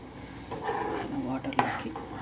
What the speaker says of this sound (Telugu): ఉప్మా రవ్వ వేసుకున్నాక ఇలా కలుపుకోవాలి.